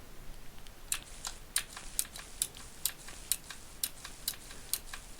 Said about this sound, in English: we're going to do a little bit of the tapping of the keys for the beautiful mechanical keyboard noises